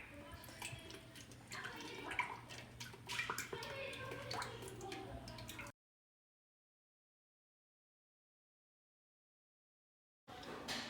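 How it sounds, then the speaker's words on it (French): Liquid whole cream pours into mascarpone in a mixing bowl, a soft continuous splashing gurgle heard close up. It breaks off into several seconds of total silence before the sound returns briefly. "je vais venir ajouter 600 ml de crème fraîche liquide entière."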